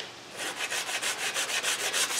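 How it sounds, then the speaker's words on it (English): A sanding block rubs back and forth over a chalk-painted wooden headboard, a quick steady rhythm of close, soft scraping strokes heard alone. "I'm going to take my sanding block"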